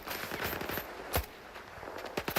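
Rapid automatic gunfire in S.T.A.L.K.E.R. 2, with sharp close bursts of shots in quick succession, loud and dense, with no talking over it.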